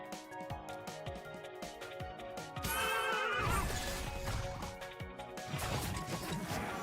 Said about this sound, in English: That ghost horse noise is pretty disturbing.